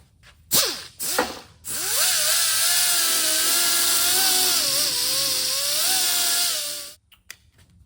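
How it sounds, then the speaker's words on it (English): A grinder works on cracks in a steering wheel: two short spin-ups, then a long, steady high-pitched whine with wavering tone that holds for about five seconds before cutting off. "I've ground out all the cracks with the grinder"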